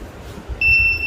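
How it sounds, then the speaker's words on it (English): A buzzer on a smart helmet for coal miners, built on ZigBee, switches on partway through and holds a loud, steady, continuous high-pitched tone. "Now this buzzer will give sound"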